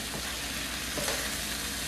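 Chickpea croquet filling, with shrimp and cheese in the dish, sautés in a pan, giving a steady soft sizzle with a few faint stirring scrapes over about two seconds, close and even, no voices.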